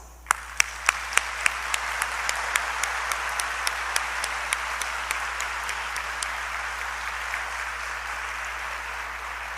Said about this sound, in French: nous exprimons cette joie de vous accueillir par un concert d'applaudissements